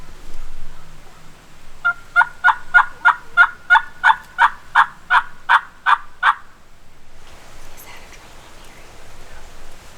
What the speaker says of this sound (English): these turkeys gobbling about 150 yards in front of us